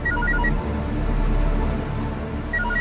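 A telephone bell rings in a short repeating pattern, faint beneath steady room noise in a Tamil TV serial scene, sounding at the start and again near the end.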